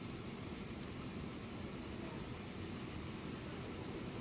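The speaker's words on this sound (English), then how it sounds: "What's this train doing?" A train in the Transport Fever video game rolls along with a steady low rumble of wheels and engine, constant and moderately faint throughout.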